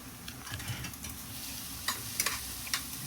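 Cabbage and prawns sauté in a pan, a soft steady sizzle with light scraping and stirring taps, faint and close, with no talking.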